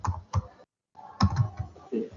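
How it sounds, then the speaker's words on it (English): Clicks and taps from a computer keyboard being typed on during an online faculty orientation call, a few short bursts of keystrokes around a brief silent gap, close and moderately quiet. "keyboard typing noise is there"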